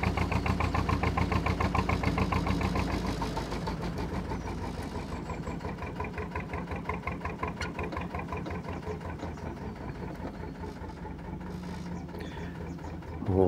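A small boat's engine chugs steadily on the Grand Union Canal, a rhythmic mid-pitched throb that is louder for the first few seconds, then settles into a slightly softer, even drone.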